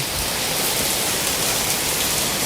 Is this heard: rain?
yes